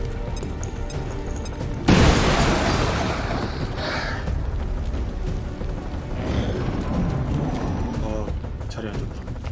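A loud blast and crash from a grenade explosion in a video game bursts in sharply, then rumbles and fades into ongoing battle noise, with people talking over it.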